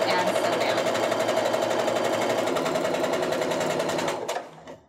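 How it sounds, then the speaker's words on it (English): A sewing machine chain-stitches half-square-triangle quilt pieces cut from fat quarters, running in a steady, loud continuous whir of rapid needle strokes for about four seconds before slowing and stopping at the end. "I'm going to go ahead and chain stitch all these."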